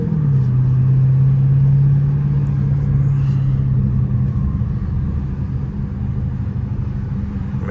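A loud Dodge Hellcat engine in traffic gives a deep, steady rumbling rev held close up, easing slightly toward the end, with no voices over it.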